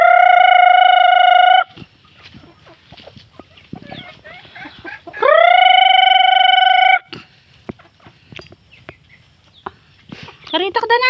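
Backyard chickens being fed, with loud sustained squawking calls up close in two bursts and softer clucks and pecking noises between, alongside people talking.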